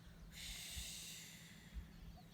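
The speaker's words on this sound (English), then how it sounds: "And then gently exhale." A gentle, airy exhale of breath during a guided yoga breathing exercise, soft and close, with a faint hiss that fades slowly, no talking.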